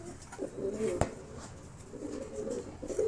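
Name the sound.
fantail pigeons cooing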